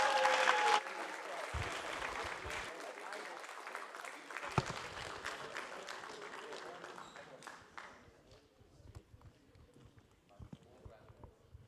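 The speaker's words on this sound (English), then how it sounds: "Give them a holler," Audience at a chapel graduating seniors recognition applauding and cheering as graduates come up on stage, loud at first then thinning out into scattered clapping, with voices and footsteps mixed in.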